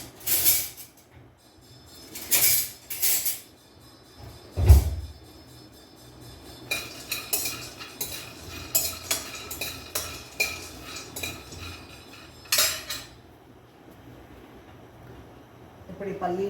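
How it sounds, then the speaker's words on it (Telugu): Peanuts are dry-roasted in a metal kadai and stirred in bursts of scraping, rattling clatter, with one heavy knock, while someone talks intermittently. "మనం పల్లీలు మంచిగా వేయించుకోవాలి."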